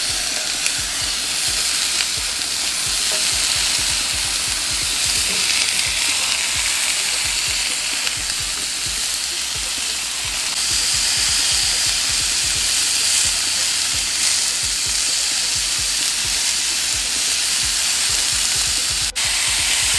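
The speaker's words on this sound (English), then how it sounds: "you want to start frying that on the other side of the grill" Sliced onion and red pepper fry on a grill, giving a loud, steady sizzle with dense crackling pops that runs unbroken for twenty seconds, with no voices over it.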